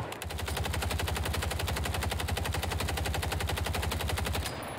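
A Striker 9 submachine gun in Call of Duty on Rebirth Island fires one unbroken rapid burst for several seconds, close and punchy with an even, fast rhythm, then stops abruptly.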